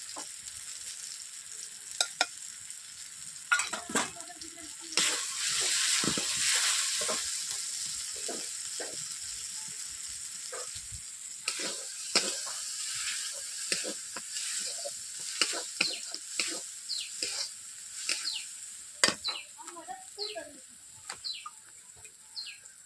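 Browned onion, garlic and ginger sizzle steadily in a pan as chili and turmeric powders go in for a Bengali prawn malai curry, with a continuous hiss and frequent stirring clinks and scrapes up close.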